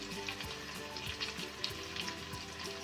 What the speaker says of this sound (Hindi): अब हम इसमें डाल देंगे ये टमाटर।